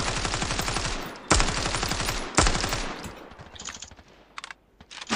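Rapid automatic gunfire from the mobile shooter Standoff 2 comes in two or three loud bursts of closely spaced shots, followed by quieter clicks and metallic reloading sounds.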